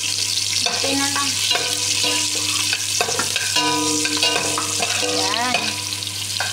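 Spaghetti sauce boils in a pot at home, a loud, dense, continuous bubbling hiss with faint tonal sounds running underneath.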